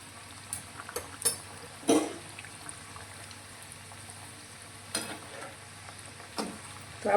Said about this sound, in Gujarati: મુઠિયાને આપણે સારી રીતે તળી લઈશું।